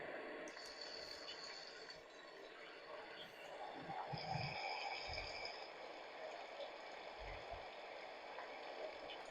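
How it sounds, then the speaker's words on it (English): A Homedics sound machine plays its rain setting, a continuous wash of falling-rain hiss with scattered low thumps and patters, steady and moderately close. "And it has rain."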